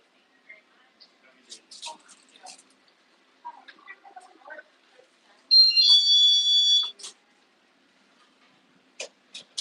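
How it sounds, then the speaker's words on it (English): A loud, steady alarm buzzer in a restaurant blares for about a second and a half at close range, with scattered talk and kitchen clatter around it before and after. "Can you imagine listening to that buzzer all day?"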